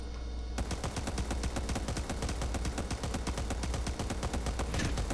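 Rapid bursts of automatic gunfire from the video game Cyber Hunter, dense and rhythmic, continuing without pause after a short quieter opening.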